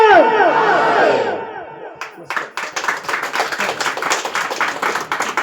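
A large crowd chants a loud, unified devotional slogan in praise of Chhatrapati Shivaji Maharaj, then breaks into steady, close rhythmic clapping that carries to the end.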